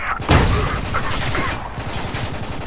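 Loud bursts of gunfire in the Spec Ops: The Line shooter, with a sharp close shot near the start followed by continuous combat noise and scattered reports.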